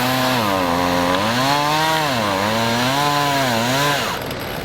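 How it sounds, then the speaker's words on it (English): A petrol chainsaw idling and revving beside a 4WD track, its engine pitch rising and falling in waves before cutting off near the end, close and loud with no talk. "the last time I used this chainsaw"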